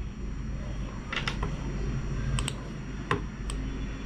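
Someone types on a computer keyboard while working in Adobe Premiere Pro CC 2018. A handful of crisp, close keystroke clicks come in short irregular clusters over a low steady room hum.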